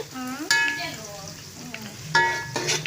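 Chicken curry frying in a pan while being stirred with a spoon, giving a soft sizzle under scraping strokes and a few sharp clinks against the pan, close by with no talking.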